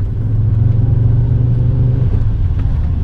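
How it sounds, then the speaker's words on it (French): An Audi 200 Quattro Turbo engine hums steadily at close range, a low rumble with the turbo's rising whine building faintly beneath it as it spools up. "On entend le turbo qui a l'air de charger."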